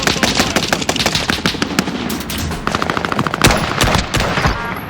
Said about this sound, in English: all it takes with this M1 Garand is just one shot, really